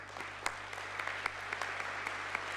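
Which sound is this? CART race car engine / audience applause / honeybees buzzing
audience applause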